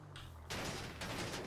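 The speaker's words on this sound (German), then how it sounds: "Schüsse von den Jungs." Gunfire from a group of players in the video game GTA 5 roleplay, a burst of loud sharp shots starting abruptly and continuing in a dense volley for about a second.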